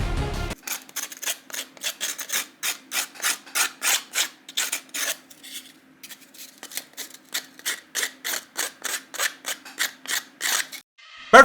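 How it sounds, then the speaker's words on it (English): Glued wooden planks of a terrain piece are sanded by hand in quick, even back-and-forth rasping strokes, close and crisp, with a short pause midway before the strokes resume, and no talking. "don't forget to sand everything down a bit to avoid splinters"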